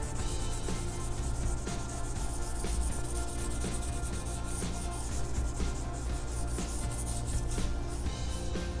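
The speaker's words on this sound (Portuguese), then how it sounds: "Eu vou passar a borracha aqui só para clarear" Rubber eraser rubbed over pencil lines on drawing paper, a steady close scratchy rubbing that runs throughout in continuous strokes with no talking.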